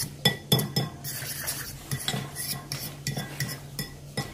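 A spoon stirs ground oven-toasted almonds into a chocolate praline mixture in a bowl, making repeated close metallic clinks and scrapes in an uneven rhythm, with quiet pauses between strokes and no talking.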